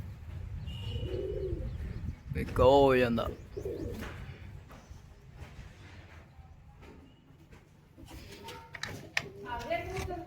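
Pigeons coo in a loft, a cock and hen perched together, with soft intermittent calls and a brief louder warbling burst near the start, mixed with someone talking and background clatter.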